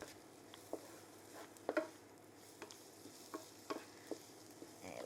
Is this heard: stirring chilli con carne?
yes